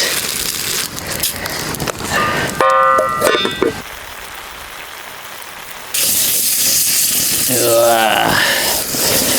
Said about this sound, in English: The flambe is taking away all my butter.